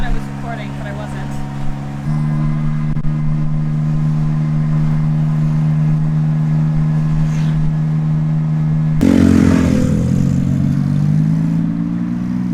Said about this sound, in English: So now I'm going to get a tuk-tuk ride